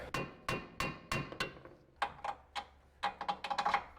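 Sharp metal taps on a Subaru Forester control arm, struck to line up its bolt holes: about a dozen crisp, close strikes, evenly spaced at first, then bunched in quicker bursts.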